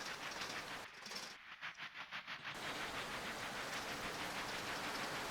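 Steam locomotive running in a train simulation game, a steady broadband chuffing and rolling rumble with rhythmic clatter, briefly thinning and pulsing in the middle before resuming at full, even loudness.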